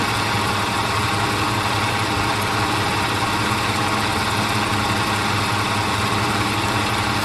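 Engines of a Dornier Do J Wal flying boat in Microsoft Flight Simulator, held at 1450 RPM, give a loud, steady, unbroken drone with a rough low throb that fills the whole stretch.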